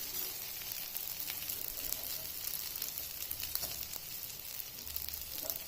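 Soybean kebabs fry in oil in a pan over a medium flame, giving off a steady, even sizzle with small crackles and pops throughout, close up and with no voices.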